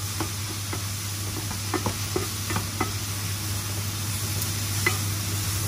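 Food stir-fries in a home kitchen pan, giving a soft continuous sizzle with scattered light scraping and tapping from a utensil, fairly quiet over a steady low hum.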